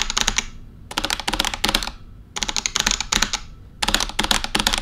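Rapid typing on a Razer Huntsman TE keyboard fitted with HyperX keycaps, close and crisp, arrives in short bursts of clattering keystrokes separated by brief pauses.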